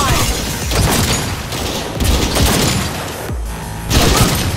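Turret gunfire in Cyberpunk 2077 rattles out in loud, dense bursts with short gaps, heavy booming impacts layered through the barrage.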